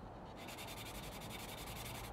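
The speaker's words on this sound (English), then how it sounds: "So we've got to sand them out" Medium grit sandpaper rubs steadily across a 1/48 scale Revell Junkers Ju 88 A-4 plastic model, a close, quiet rhythmic scratching of quick back-and-forth strokes.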